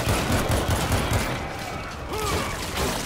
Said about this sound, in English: Close encounters, I like to keep the shotgun handy.